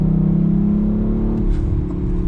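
An Audi RS5 engine rumbles steadily at idle-to-low revs with a throaty exhaust note and a few faint crackles and pops toward the end.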